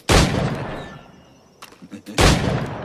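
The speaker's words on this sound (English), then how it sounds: "Pull off a few shots if you like, get a feel for it." Two loud, close gunshots from an old-style firearm in the pirate video game Assassin's Creed 4 Black Flag, each with a sharp crack and a long echoing tail. Faint clatter falls between the shots.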